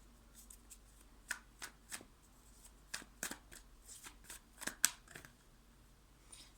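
Tarot cards being shuffled and drawn by hand, a run of crisp, irregular snaps and riffles close to the microphone with short pauses between them, and no talking.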